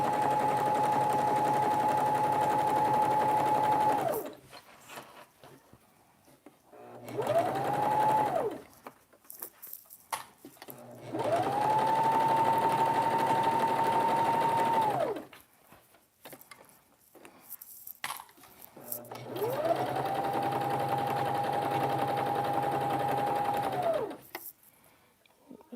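A sewing machine stitches a seam on a kitchen curtain in four separate runs, each lasting a few seconds, with steady motor whir and short quiet pauses between runs; close and loud.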